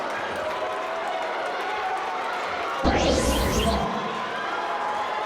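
A home crowd at a high school boys basketball game, Caledonia versus Minneapolis North, rises in a sudden burst of cheering and shouts over low gym murmur, swelling briefly before fading back.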